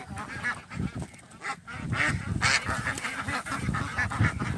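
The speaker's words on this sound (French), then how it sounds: "Alors il y avait de partout des canards" Many ducks quacking together at a duck farm in Isan, Thailand, in a noisy, steady clamor, close by, with overlapping calls and no clear talking.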